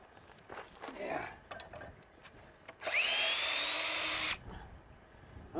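A power drill removes screws from a central air unit during a teardown, with one loud sustained whine of about a second and a half following scattered clanks and handling noises, near and clear.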